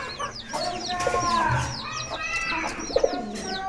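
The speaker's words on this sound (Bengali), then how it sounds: "এই যে আমাদের কবুতর মাশাআল্লাহ, কবুতর জোড়া খুব ভালো" A pair of pigeons coos in a backyard coop alongside chickens, with frequent bright chirping from small caged birds layered over the low cooing throughout.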